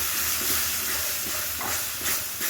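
Spice paste of ground coriander and Kashmiri chili powder mixed with water sizzles and hisses steadily in a hot pan while being sautéed, a continuous close frying noise with light stirring pulses and no speech.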